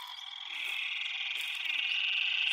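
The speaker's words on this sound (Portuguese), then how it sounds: "Sapo." Frogs croak together in a full rainy-season water reservoir in Brazil's northeast, a steady, moderately loud chorus that swells slightly toward the end with no voices over it.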